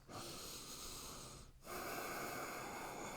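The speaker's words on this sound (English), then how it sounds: "10 more slow, steady breaths" Slow, steady breathing held through a yoga pose, one long breath rushing close to the microphone, then a short pause before the next begins.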